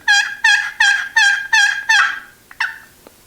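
Wooden turkey box call played in a series of six loud, raspy yelping strokes, each a short harsh burst with quick pauses between, followed by a couple of softer clucks and taps at the end.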